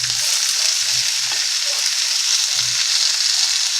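Tomatoes and rainbow chard go into a hot pan with white radish, setting off a loud, steady sizzle up close with a few soft stirring knocks and no speech.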